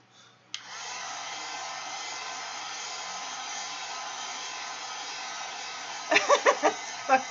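A hair dryer drying a mixed media bag decorated with collage napkins and acrylic inks: a click, then a steady close whirring blow, and a few short bursts near the end.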